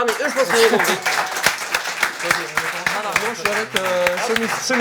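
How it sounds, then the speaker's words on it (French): Audience applause rattles through a live French comedy show, scattered sharp claps running under close, lively talk from the performers. "Est-ce qu'on les applaudit?"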